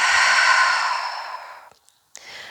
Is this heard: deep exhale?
yes